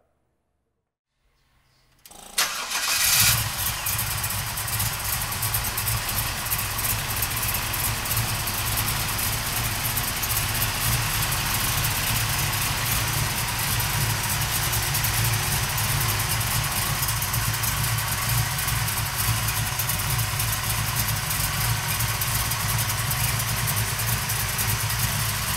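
A 1970 Chevrolet Chevelle's engine cranks after about two seconds of silence and catches, then settles into a loud, steady, rumbling idle that continues unchanged to the end, with no talking.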